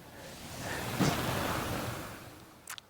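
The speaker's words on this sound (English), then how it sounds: "So I just turned the water on to show you what it looks like." Water pours into a garden irrigation channel as a broad, steady rushing wash that swells and fades over a few seconds, with a brief splash near the end and no talk.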